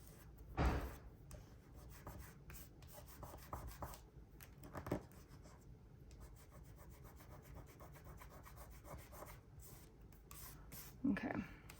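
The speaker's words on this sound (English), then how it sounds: "Still rubbing because I have glue that came out that I'm trying to" A paper journal is rubbed to remove excess glue, giving soft repeated scuffing and friction strokes with a few louder bumps, quiet and close, with faint talk at times.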